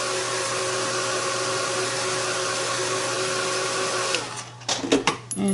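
A dryer blows close up on freshly painted lips of a face painting, a loud steady whirring hum lasting about four seconds before cutting off, followed by a few quick clatters and handling knocks.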